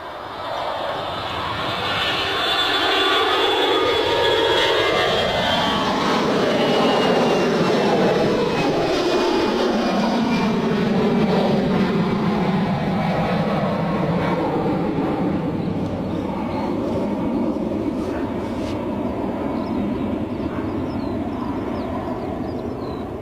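A departing aircraft at Bristol Airport, its engine roar swelling and holding as it takes off, a broad loud rumble with a shifting whine that lingers across the full stretch.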